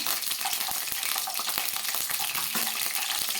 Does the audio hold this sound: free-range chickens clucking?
no